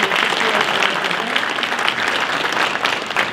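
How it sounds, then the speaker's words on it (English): An audience at a chamber of commerce economic event claps in a dense, steady burst of applause that stays loud and even for several seconds, with no voices over it. "Let's give all of them a round of applause for being here."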